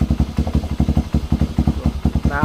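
A repaired Motorstar Star X 175 II motorcycle engine runs close by with a quick, steady, thumping idle pulse, loud and continuous throughout.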